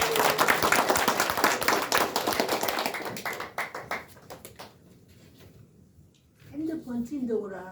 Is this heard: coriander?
no